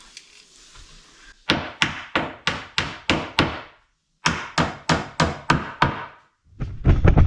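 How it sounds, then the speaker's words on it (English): Steady hammer blows drive nails in by hand, striking in two quick runs of about six and seven hits each, sharp and close, separated by a brief pause, during work on a log cabin fireplace. "Sometimes those nails don't drive in all the way and you have to drive them in with a hammer."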